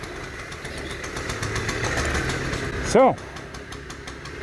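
A 1980 Honda Express NC50 moped engine idles steadily at close range with a low putter under the whole stretch, a brief louder blip near the end, and someone speaking a word over it.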